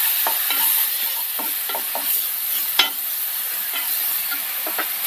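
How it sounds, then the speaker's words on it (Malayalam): A spoon stirs ground onion paste into spices in a frying pan for a white chickpea curry. Soft scraping strokes come in an uneven rhythm over a constant close sizzle, with one sharper clink and no talking. "ഇനി നമുക്ക് അതിലേക്ക് അരച്ച് വെച്ച സവാള ചേർക്കാം. ഒന്ന് മിക്സ് ചെയ്യാം."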